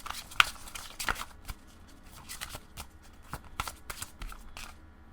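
Tarot cards are shuffled close up in a quiet room, a string of crisp riffling snaps and soft slaps in uneven bursts, fairly faint and without talk.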